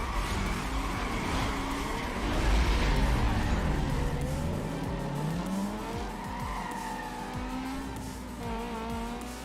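A race car in Need for Speed Most Wanted launching off the line and bogging down, engine note dipping and recovering while tires squeal, with other racing cars roaring close by throughout.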